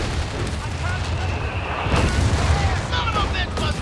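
In a multiplayer World War II strategy game set at Mignano, a grenade bursts with a dull boom about two seconds in, amid constant battle rumble and scattered gunfire, with a voice talking over it.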